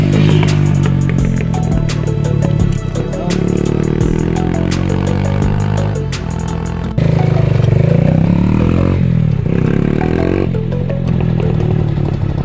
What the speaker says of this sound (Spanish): qué hermoso que suene ese escape culiado.